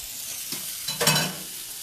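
Thin-cut pork chops laid into a hot pan, a soft steady sizzle rising into a brief louder burst of searing as one lands, then settling back to a gentle fry, no voices.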